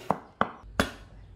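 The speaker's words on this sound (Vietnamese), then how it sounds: "củ hành tím thì mình cũng đập cho nó dập dập rồi sau đó mình cũng băm cho nó thật là nhuyễn ra luôn" Knife chopping through crushed shallots on a cutting board in a home kitchen, three sharp separate thuds with a gap between each, close and fairly quiet.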